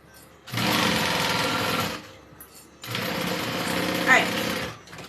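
A sewing machine stitches a backpack in two steady bursts of whirring, with a short pause between them, loud and close.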